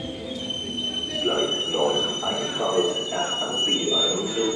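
A FlixTrain or RegionalExpress double-deck train pulls into a station with a steady rolling rumble and rhythmic wheel clatter, while high, thin brake squeals ring continuously above it.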